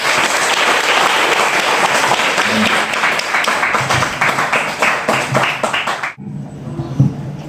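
A room full of people claps hands during an oral test session, dense close applause that keeps up for several seconds and then stops abruptly, leaving near silence with a few soft thuds.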